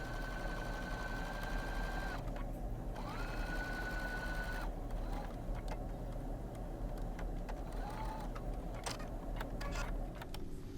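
A sewing machine back stitches along the edge of a holiday kitchen towel, its motor whirring in short runs between pauses amid steady room noise.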